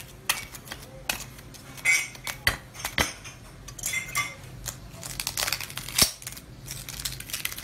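Plastic spoon scraping and cutting through crispy fried pork leg (crispy pata), giving a run of close, sharp crackling crunches and clicks of irregular rhythm, with no talk over them.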